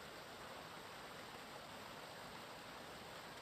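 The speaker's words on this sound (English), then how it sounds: "That's a waterfall, actually." A waterfall in a vintage multiplayer sandbox game, beside a blacksmith's quenching spot, gives a steady, even rush of broadband water noise, fairly faint, with no voices.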